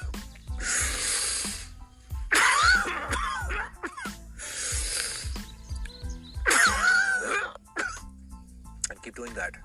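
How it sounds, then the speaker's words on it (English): A person demonstrates cough CPR, giving repeated forceful coughs and throat-clearing bursts in a steady alternating rhythm with deep breaths between them, close and loud. "So alternate breathing and coughing."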